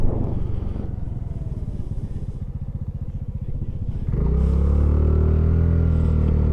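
A small Honda 110 scooter-style motorcycle loudly idles with a low chugging rumble, then the throttle is twisted and the engine rises into a steady, close, sustained acceleration drone.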